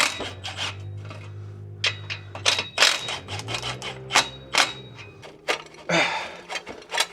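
Hand tools wrenching on parts of a 3.6 Mk6 GTI during an AWD swap: irregular metallic clicks, clanks and scrapes at close range over a faint background drone, with no speech.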